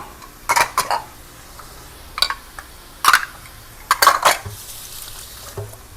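A spoon scrapes and clinks against a pan and plates as stir-fried ginger chicken with wood ear mushrooms is scooped out, giving several separate, close metallic knocks spaced irregularly over quiet gaps without talking.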